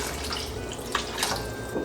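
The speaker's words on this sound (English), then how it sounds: "I'm gonna add 2 cups of water." Two cups of water pour into simmering tomato sauce for lasagna, a steady close splashing and trickling rush with brief gurgling bursts, lasting a couple of seconds with no talking.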